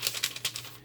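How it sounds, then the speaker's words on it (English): Green paper crinkles in a handmade journal, giving a few quick, close, soft rustles in under a second. "That beautiful green paper that Julie talked about. It's got a nice"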